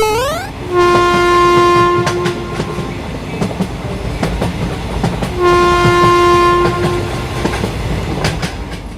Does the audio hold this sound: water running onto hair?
no